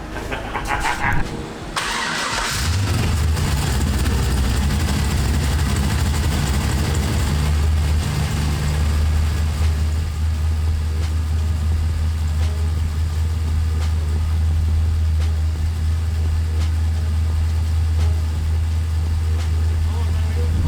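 A twin-turbo 1969 Camaro engine cranks and fires on a test start, then settles into a loud, steady, rumbling idle that holds close to the microphone.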